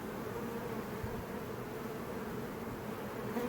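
A honey bee swarm, handled the day after it was caught in a backyard hive, gives a steady, dense buzz that holds close and even throughout with no voices.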